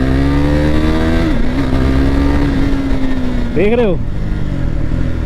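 A sports motorcycle, a TVS Apache 310, revs loudly and steadily, its engine note rising and falling sharply near the end, with someone talking over it throughout.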